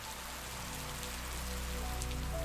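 Steady rain patters evenly on a surface, a soft continuous hiss with a low hum underneath.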